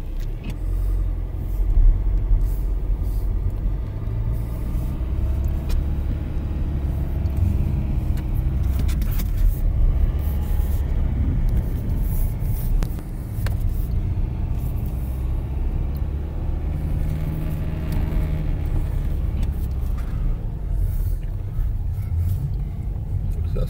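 A 4x4 off-road vehicle with four-wheel drive engaged and stability control off descends a long, steep hill, giving a steady close engine and tyre rumble with a few clunks and rattles throughout.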